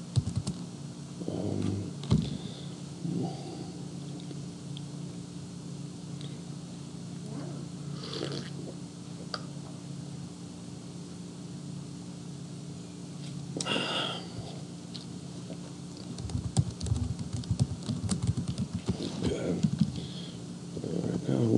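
Close computer keyboard typing, bursts of clicky keystrokes scattered through a long stretch over a steady low room hum, growing busier toward the end, with speech and breathy sniffing noises at times.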